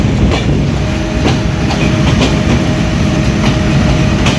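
The Chitra Express thunders across the Jamuna Bridge, a loud, continuous roar of wheels with a repeating clickety-clack beat and no voices.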